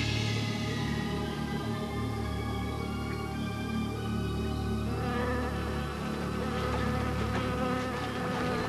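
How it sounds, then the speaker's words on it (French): A dense swarm of mosquitoes whines and buzzes steadily and loudly throughout, the drone thickening into a more textured, layered hum in the second half, with no voices present. "Oh, bon sang, mais ils les élèvent, les moustiques, ici."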